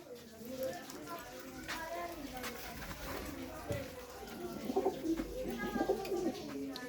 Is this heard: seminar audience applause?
no